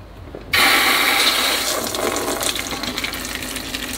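Water suddenly gushing from an RV faucet as its valve is turned on, a loud abrupt onset settling into a steady running splash, with no talking.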